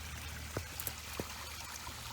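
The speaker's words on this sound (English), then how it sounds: "the waterfall." Small garden pond waterfall, about 14 feet long and 7 feet wide, with a steady soft trickle and pour of water running continuously at a low, even level, a few faint clicks over the flow.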